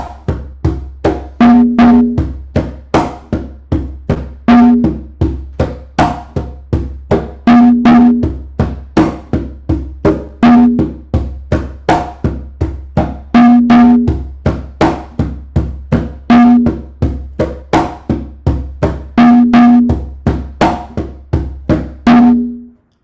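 A single conga drum playing a variation on the Latin tumbao rhythm: a steady, looping pattern of crisp slaps and ringing open tones, close and loud, with no talking.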